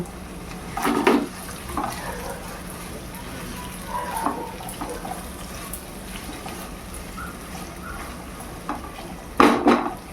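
Chopped onions frying in oil for a spicy chicken dish, a low steady sizzle under a few louder scrapes and clanks of a spoon against the pan.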